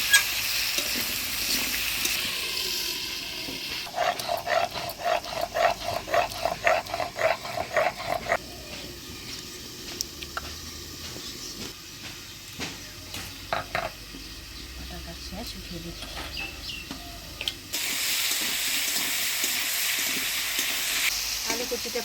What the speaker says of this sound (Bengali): হলুদ লবণ দিয়ে আলু আর কচুটা ফোনের তেলে ভাজা ভাজা করে নিচ্ছি